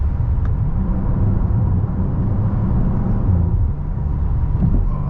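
A Bentley Continental GT W12 Mulliner drives at night, its deep steady engine drone and road rumble heard from inside the cabin, with faint exhaust burbles and no talking.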